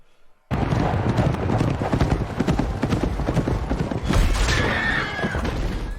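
Horse hooves clip-clopping in a TV show, a rapid run of hoofbeats starting abruptly and continuing loudly, with a whinny-like cry near the end.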